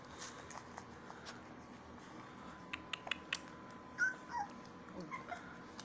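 American Bully puppies whimper and yip softly in faint, scattered high cries, with brief clicks and light handling noise between them.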